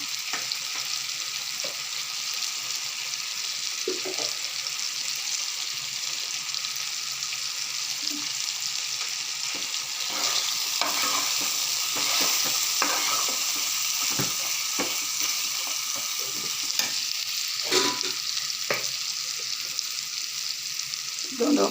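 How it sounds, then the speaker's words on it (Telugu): Mutton sizzles steadily in a hot pan as chili powder is stirred in, a continuous frying hiss broken by scattered scraping clicks of the spoon, fairly close and with no talking. "పచ్చి వాసన పోయేదాకా కొంచెం వేపి ఇప్పుడు కారం వేస్తున్నాను"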